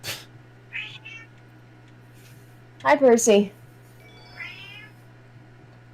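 After a person speaks a brief greeting, a cat close by lets out one loud, drawn-out meow, with softer vocal sounds before and after.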